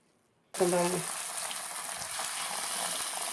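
Pieces of dough drop into a hot pan and break into an instant loud sizzle that settles into a steady, close frying hiss after a moment of silence.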